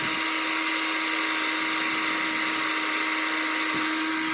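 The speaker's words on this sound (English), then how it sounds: "we're just going to try to drill a hole straight up" A drill boring a hole straight up through wood during RV repairs, heard as a continuous close, loud motor whine with a steady hum for the whole stretch and a brief dip near the end.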